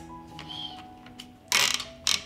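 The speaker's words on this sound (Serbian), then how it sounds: "Zatvaram ekspres lonac" Metallic clicks and scrapes, then two sharp loud clanks as the heavy lid of a 6-litre pressure cooker is fitted and locked into place, close by.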